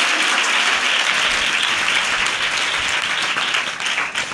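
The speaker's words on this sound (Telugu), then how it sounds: "నమ్మిన వారు గట్టిగా చప్పట్లు కొట్టి దేవునికి స్తోత్రం చెప్పాలి." A church congregation at a special fasting prayer meeting claps loudly and continuously in praise, a dense wash of applause filling the whole stretch and easing slightly at the end.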